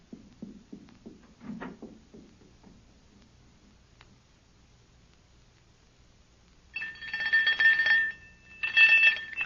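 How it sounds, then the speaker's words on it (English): Faint soft knocks at first, then after a quiet pause two bursts of bright electronic ringing, the second brief, fairly close. "Ring the doorbell. I'll hear it. Ring it loud."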